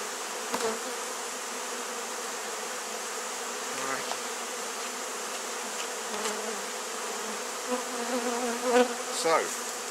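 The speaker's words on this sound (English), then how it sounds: "there's a large number of bees in there now." A dense swarm of honey bees buzzing steadily inside a top bar hive, with a few individual bees droning closer past the ear near the end.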